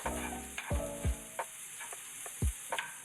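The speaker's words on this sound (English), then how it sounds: "Add a small bit of oil, and once hot, add in your minced garlic and onion" Minced garlic and onion sizzle in a small amount of hot oil while being stirred, a steady fry broken by several sharp scraping knocks of the utensil against the pan.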